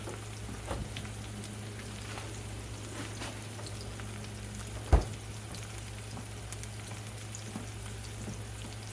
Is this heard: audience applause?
no